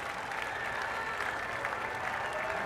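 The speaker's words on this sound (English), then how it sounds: "a round of a polite applause for the Spaniard" Golf gallery politely applauding around the island green 17th hole at The Players, continuous moderate clapping from a crowd at some distance, with faint voices underneath.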